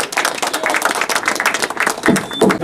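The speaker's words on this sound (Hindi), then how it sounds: "एक बार जोरदार तालियां।" Applause from a crowd at a public event in Vidisha, a burst of brisk, uneven hand clapping lasting a few seconds, close and loud, with a few stray louder claps near the end.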